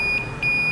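A MyGaz gas leak detector alarm sounds a high, steady electronic tone in two quick beeps separated by a short gap, clear and alone over a faint low hum.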